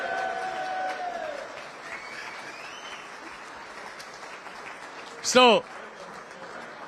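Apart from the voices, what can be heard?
audience round of applause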